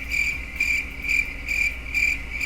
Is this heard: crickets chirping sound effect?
yes